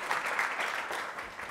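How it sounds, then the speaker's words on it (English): Studio audience clapping at a live talk show, a short dense burst of applause that holds steady and then starts to thin out. "Give Jeff a round of applause."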